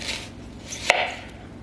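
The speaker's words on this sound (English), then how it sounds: "That's a huge onion. But we're going to use this piece here. And I'm just going to slice it" A single knife stroke slices through a large onion on a cutting board, a brief crisp cut standing alone near the middle of an otherwise quiet kitchen moment.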